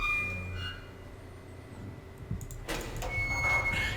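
Door opening in the Riven computer game, a soft ambient hum and faint tones giving way to a sudden mechanical whoosh and rumble as the door moves.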